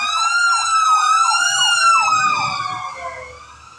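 A fire truck's wailing siren sweeps up and down steadily, loud and close, then fades a little as it passes, with faint background noise below.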